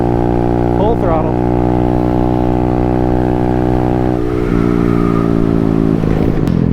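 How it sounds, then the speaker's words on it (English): Motorcycle engine held at full throttle during a speed test, a loud steady high-revving drone with a brief pitch shift partway through, close and continuous throughout. "Speed test, full throttle."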